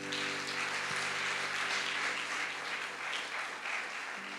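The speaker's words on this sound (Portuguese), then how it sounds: "pedir uma salva de palmas ao pessoal do louvor" Dense applause from a large church congregation at a service, sustained and even throughout, with a faint tonal hum underneath.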